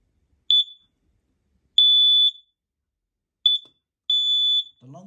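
An interlinked battery smoke alarm sounds four clear, loud high-pitched beeps, two short and two held longer, with a faint rustle at the end.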